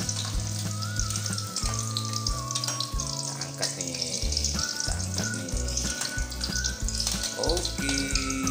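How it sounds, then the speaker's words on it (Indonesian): Wilting ingredients for yellow-spiced chicken are stirred while frying in a pan, making a steady sizzle that sits under loud background music. "Terus diaduk-aduk karena sudah agak layu"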